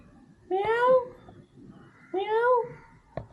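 A cat sitting in a bag gives two distinct, drawn-out meows about a second and a half apart, close and clear over quiet room background.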